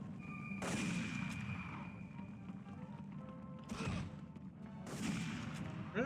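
Gunfire in Medal of Honor (1999), a World War II shooter: three heavy, booming shots spaced a second or two apart, each ringing out over a low rumbling battlefield background.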